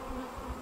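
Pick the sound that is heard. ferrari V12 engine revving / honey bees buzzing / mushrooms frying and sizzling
honey bees buzzing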